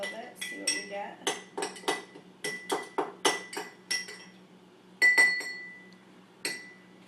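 A spoon clinks against a glass while antacid tablets are stirred into a liquid, giving a series of sharp, close, ringing taps in an irregular rhythm with short pauses between them.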